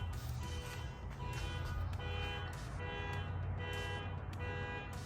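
An alarm beeps in a repeating pattern of tones outside, distant and moderately faint over low background rumble.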